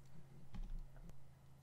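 Computer keyboard typing while entering text in Inkscape: a short cluster of soft, close key taps over a steady low electrical hum.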